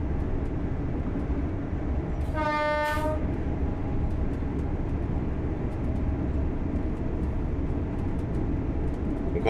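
Passing train in a rail simulator, a steady loud rumble of rolling stock with a short two-tone horn blast near the start, continuing as an even roar to the end.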